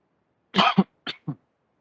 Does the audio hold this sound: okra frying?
no